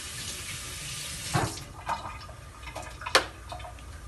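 Tap water runs into a kitchen pot while plantain porridge is being prepared, a fairly quiet wash of water with a few brief splashing bursts and clinks, no voices.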